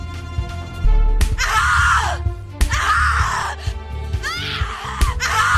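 A woman screams repeatedly in the horror game The Cat Lady, several long anguished shrieks over dark, heavy music with low thuds.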